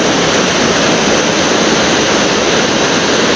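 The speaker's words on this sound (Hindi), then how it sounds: "कितना तेज पानी गिर रहा है" The Kundal Shahi waterfall in the Kutton Valley of Azad Kashmir roars with fast-falling water, seen from above. A loud, unbroken broadband rush fills the whole moment with no voices.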